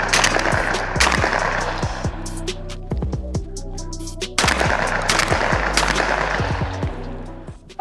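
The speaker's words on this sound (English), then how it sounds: "So neither of these guns should have a lot of recoil shooting these light target loads" Beretta A400 Xcel and SKB RS300 gas-operated shotguns firing light target loads outdoors, a slow series of loud sharp reports spaced about a second apart, each with a ringing decay.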